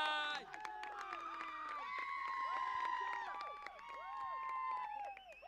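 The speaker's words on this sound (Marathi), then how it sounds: "काय जल्लोष आहे" Spectators cheering and shouting at a local village cricket tournament match between the Umroli and Shelu teams. The crowd noise is distant and moderately loud, with whistles and shrill calls, under a commentator's talking.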